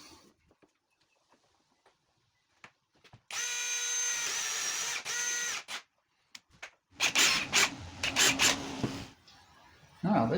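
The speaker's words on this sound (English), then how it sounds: "which are for drilling with a smaller drill for the screws for the hinge" A small power drill whines steadily for a couple of seconds, boring screw holes for cabinet hinges during van cabinetry work, followed by louder rustling and clattering handling noises close by.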